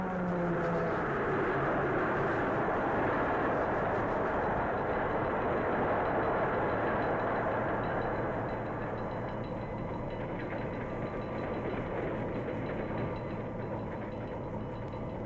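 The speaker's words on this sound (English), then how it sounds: "closes the throttle to slow down the train" A steam train runs on rails with a continuous loud rumble and rhythmic wheel clatter, steady throughout and easing slightly in intensity toward the end as the throttle closes.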